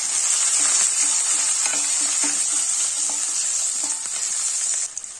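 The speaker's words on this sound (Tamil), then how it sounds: "கூடவே 15 சின்ன வெங்காயத்தையும் சேர்த்துக்கிறேன். ஒரு 6 பல் பூண்டை கூட சேர்த்துடலாம். இதை வதக்கிக்கலாம்." Shallots and garlic cloves sautéing in hot oil in a pan for a green gram rice dish, with a bright, steady sizzle and light rhythmic ladle taps, close and loud before easing off at the end.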